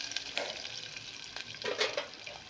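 Mustard seeds, cumin and crushed garlic sizzle in hot oil for a Mangalorean cucumber sambar, a brief, fairly quiet crackle with a few sharper spits and pops and no talking.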